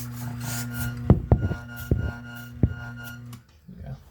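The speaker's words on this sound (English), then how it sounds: "using the bellows, I do notice it pumps out a whole gram to 2 grams of coffee" Bellows on a Eureka Specialita coffee grinder pumped by hand give several quick, rasping puffs in an uneven rhythm over a low motor-like hum, close and moderately loud.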